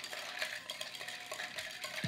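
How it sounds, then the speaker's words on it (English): Cocktail stirred with a bar spoon until chilled: a continuous soft rattling swirl of ice in a mixing glass, close and fairly quiet, with a sharper knock at the very end. "Stir that until it's nice and chilled."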